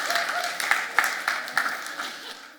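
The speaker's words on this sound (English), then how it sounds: "let's give Jack a round of applause as he comes forward" A church congregation gives a short round of light, uneven clapping as a man named Jack walks forward, individual claps audible and fairly close.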